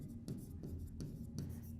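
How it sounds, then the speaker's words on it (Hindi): Writing a place name onto a map, a few close, scratchy strokes in quick succession with brief gaps. "तो इसको हम लिखेंगे दिल्ली"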